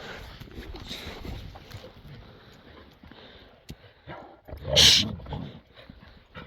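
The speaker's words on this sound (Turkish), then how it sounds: "Bu sinirli köpek bu." An angry dog gives one loud, sharp bark amid quieter rustling and low background noise, close by.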